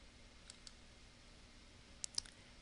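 Mouse clicks while working in PowerPoint 2013, a few faint, sharp clicks in a quiet room, with a quick pair close together near the end.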